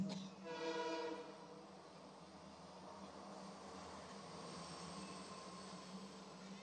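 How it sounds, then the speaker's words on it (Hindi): An express train passing on a track near apartment buildings, heard as a faint, steady rumble with a tonal horn-like hum at the start. "ये देखो अभी ये जा रही है एक्सप्रेस"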